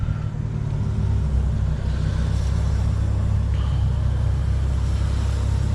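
A tuned Hyundai Veloster N, putting out 299 wheel horsepower and 347 wheel torque, drives on a wet road with a steady, loud low engine rumble and road roar heard from inside the cabin, with no speech over it.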